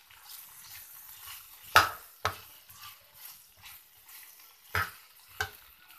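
Chopped tinda (Indian round gourd) frying in cooked masala in a pan, with a soft sizzle under several sharp scrapes and knocks of a spoon stirring against the pot, close and without talk.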